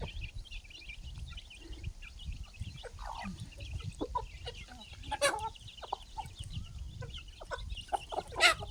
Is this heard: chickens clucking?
yes